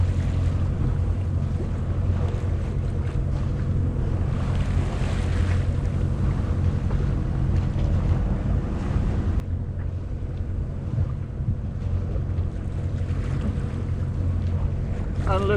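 Continuous low engine drone from a rescue service boat towing two other boats at sea off Norway, mixed with wind buffeting the microphone and wave wash, steady and fairly loud with no speech.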